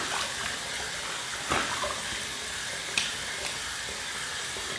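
Water splashes and trickles at a sink while the face is wet before a shave with a safety razor, a soft steady running-water hiss with a few brief splashy bursts, fairly faint and close.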